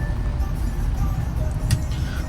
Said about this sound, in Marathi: पाऊस चालू झाला की ट्रॅफिक आलं.